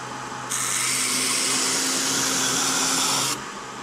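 A steady, high-pitched whirring grind of a power sander on metal starts abruptly, runs continuously for about three seconds, then cuts off, close and loud.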